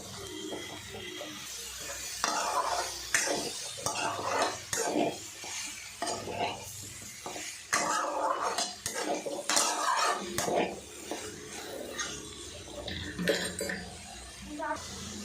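Mushroom and masala for a meal maker mushroom gravy are stirred in a pan, with busy irregular scraping and metallic clinks of a spoon against the pan over a faint sizzle.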